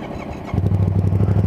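A Yamaha R1 motorcycle engine fires up about halfway through and settles into a loud, steady idle with a deep, even pulsing rumble. It is close by, and no one speaks.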